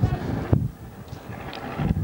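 Gale-force wind buffets the microphone at an outdoor Gaelic football under-16 final in South Derry, a steady low rumble and roar heard beneath a commentator's voice.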